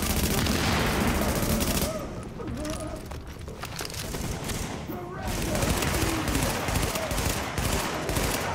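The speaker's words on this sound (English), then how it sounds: "Enjoy that grenade." Grenade blast and sustained gunfire in the video game The Division, a dense loud barrage of shots and explosive booms filling the whole stretch with little letup, overlaid by game voice chatter.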